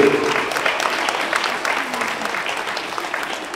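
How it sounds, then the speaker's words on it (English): A church crowd applauds its leaders, brisk, dense clapping from many hands that starts strong and gradually thins, with a voice briefly audible within it. "can we give a round of applause to our incredible leaders?"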